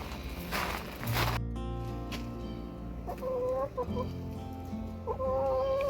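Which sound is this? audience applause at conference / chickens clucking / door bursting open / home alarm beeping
chickens clucking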